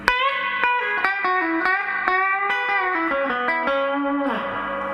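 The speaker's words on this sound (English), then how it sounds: "So you can still have lots of reverb but with more dry signal." An electric guitar played through a Sweet Blackberry amp with plenty of reverb but more dry signal rings out a short melodic phrase of clear picked notes, ending in a lingering reverb tail.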